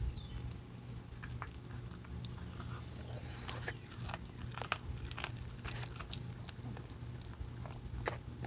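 A rabbit chews food inside a garage with quick, crisp crunching bites repeated steadily at close range over a quiet background hum.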